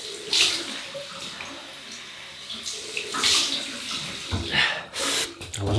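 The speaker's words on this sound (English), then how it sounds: "Cold water rinse." Cold tap water gushes in uneven bursts, splashing and hissing as the flow starts and stops, fairly close, with no talking, rinsing during a wet shave with a vintage safety razor.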